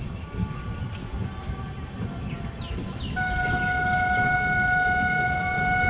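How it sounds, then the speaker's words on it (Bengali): The Amrit Bharat Express train pulls away with a steady rumbling rolling noise, and about midway a long, sustained train horn starts and holds loudly to the end. "আমাদের ট্রেন ছাড়লো"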